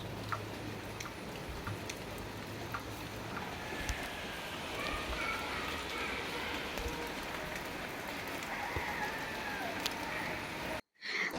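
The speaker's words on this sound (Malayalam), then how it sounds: "ഇന്നൊരു മഴ ദിവസം തന്നെയാണ്" Steady rain falls on a rural homestead in Kerala, a dense continuous patter with faint bird calls far off; the wash holds at an even level throughout, then cuts out briefly near the end.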